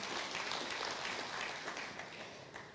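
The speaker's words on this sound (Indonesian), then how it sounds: "Berikan tepuk tangan yang meriah buat Tuhan." A church congregation applauds in a soft, continuous wash of clapping that fades slightly over a few seconds.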